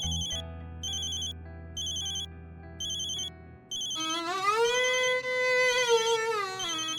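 A phone ringtone chimes in short repeated bursts, then gives way to a wavering, rising-and-falling musical tone.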